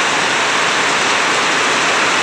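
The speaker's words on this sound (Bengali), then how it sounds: "প্রচন্ড বৃষ্টি হইতেছে" Heavy rain pours down at an evening village market in Kuala Kurau, Malaysia, a loud, dense, unbroken hiss with no voices.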